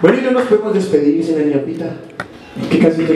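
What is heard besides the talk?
No everyday noises stand out.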